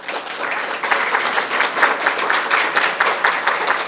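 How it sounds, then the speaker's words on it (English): An audience at a summer session gives a round of applause, a dense, steady clapping from many hands that swells slightly and holds at moderate loudness throughout. "If we could give them a round of applause"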